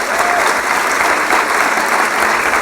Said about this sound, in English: one huge round of applause for all of our speakers tonight